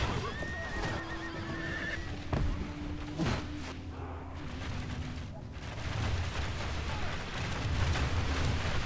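Horses in a Medieval II: Total War battle give a loud whinny with hoof clatter, set against dense battlefield rumble and clashing noise that continue throughout.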